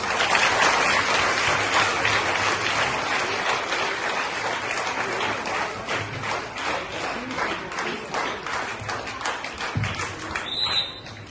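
An audience claps loudly for the quiz winners at a children's event in Vadali village, Mudinepalli mandal. Dense, sustained applause runs close and steady for the full stretch, easing slightly near the end.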